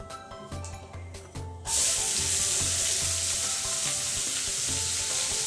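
Chopped onions dropped into hot oil already holding cumin, chili and bay leaf, bursting into a loud, steady sizzle after some earlier light clatter, continuing strong and close for a yam curry.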